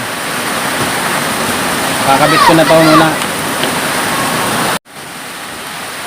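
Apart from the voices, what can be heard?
heavy rain during a storm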